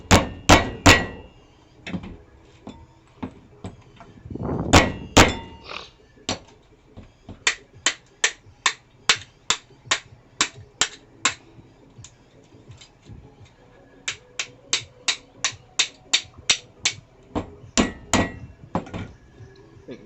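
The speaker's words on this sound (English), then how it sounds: "the hammer always wins" Hammer repeatedly striking cast aluminum scrap, sharp metallic blows landing alone in fast rhythmic runs with a few heavier hits early and brief pauses between bursts, loud and close.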